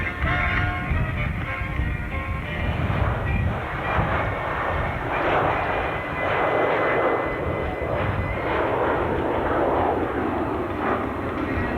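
A Boeing 727 jet airliner flies past at the 1994 Dayton Air Show, a loud, steady broadband engine roar holding for about twelve seconds with gentle swells, no voices over it.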